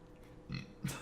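A person burps on a podcast, two short, low, throaty bursts, fairly quiet and isolated, with no talking over them.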